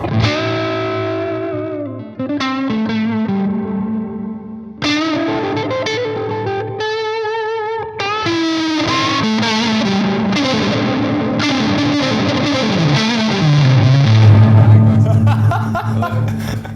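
Heavily distorted electric guitar through an amplifier with a boost pedal engaged, playing loud chords and riffs, with a crunchy, saturated tone and brief pauses between phrases.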